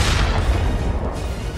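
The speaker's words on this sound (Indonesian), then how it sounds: "Setelah itu, ledakan besar terjadi, meninggalkan jejak darah iblis surgawi." A big explosion in an animated fantasy fight scene, a loud broadband boom with dense low rumble that fills the whole moment and slowly eases off.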